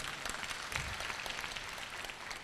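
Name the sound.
audience clapping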